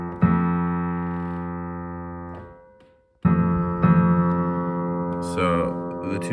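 A single grand piano string rings with a sustained, steady tone during tuning, then is struck again after a short silence, clear and close.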